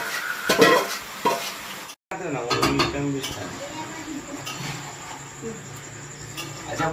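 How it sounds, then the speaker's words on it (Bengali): Chicken poured into a pan of fried onions brings a clatter, a short pause, then a steady crackling sizzle that continues under occasional nearby talk. "মাংসটা ঢেলে দেবে এবারে, পেঁয়াজ ভাজা হয়ে গেছে।"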